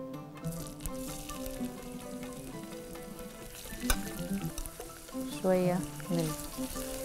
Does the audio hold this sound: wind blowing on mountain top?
no